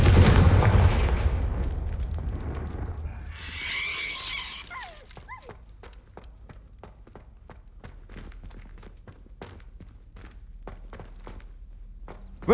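A Confringo blasting spell in Hogwarts Legacy goes off as a loud booming blast that rumbles and fades. A crackling burst follows, then a long run of regular footstep-like thuds.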